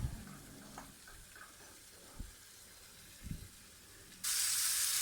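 Chicken frying on a high flame, a soft sizzle with a few scrapes of stirring, then a loud hissing burst of sizzling near the end, no voices.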